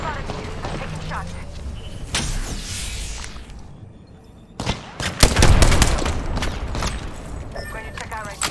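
R99 submachine gun fire in Apex Legends comes in rapid, loud bursts that crackle sharply, with brief gaps between volleys and a player talking over parts of the action.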